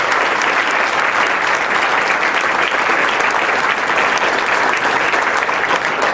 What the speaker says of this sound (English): I'd like to ask you for a nice round of applause for Dr.